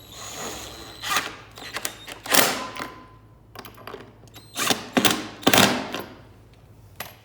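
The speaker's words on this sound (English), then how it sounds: "drop your 1/2 inch bolts into the holes here and get that fastened" Half-inch bolts are dropped in and fastened during assembly of a Splendid unit, making close irregular metallic clunks, rattles and ratcheting bursts at uneven intervals.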